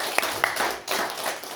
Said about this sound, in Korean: 자, 이분들 위해서 박수 한번 쳐주세요.